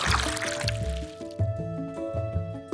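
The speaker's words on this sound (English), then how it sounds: "Discard the oil." Oil from a sample bottle glugs and splashes out in a steady pour, close up and moderately loud, with rhythmic gurgling pulses.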